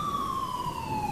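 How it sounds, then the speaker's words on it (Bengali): A single ambulance siren on a rainy night, a steady wailing tone sliding slowly downward, fairly loud and continuous over a low rumbling background. "একটি অ্যাম্বুলেন্স সজোরে হর্ন বাজিয়ে হাসপাতাল থেকে এক অজানা পথে রওনা দিল"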